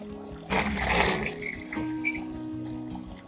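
Water sprays from a manual pressure garden sprayer in a short loud burst, then eases into a softer hiss.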